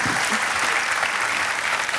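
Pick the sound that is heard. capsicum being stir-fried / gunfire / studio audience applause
studio audience applause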